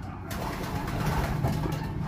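A racing pigeon coos close by, giving a short soft run of low throaty burbling notes with no talk over it.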